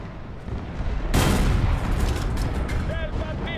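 Loud gunfire from a video game booms out abruptly and rolls into a long rumbling blast. A few short electronic tones follow near the end.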